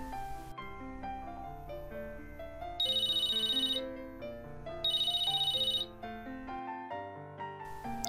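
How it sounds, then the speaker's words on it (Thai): A telephone rings with a melodic electronic ringtone, a repeating sequence of tones with brighter bursts in between, clear and close, with no voices. "แม่ของแคทเธอรีน ได้รับโทรศัพท์จากคุณครูที่โรงเรียนอนุบาล"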